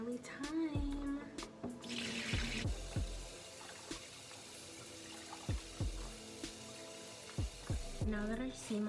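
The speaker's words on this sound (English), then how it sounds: "Now that our sea moss is rinsed" Water from a sink tap splashes and gurgles as sea moss is rinsed, with intermittent clunks and dripping, a short burst of rushing flow, and occasional close handling knocks.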